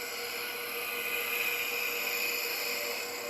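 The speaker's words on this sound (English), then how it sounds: "This is what I would call a rapid peeling cut or a rough peeling cut." Skew chisel taking a rapid rough peeling cut on a spinning wood lathe, giving a steady hissing, whirring drone of shaving wood over the motor hum, constant and close, with no speech.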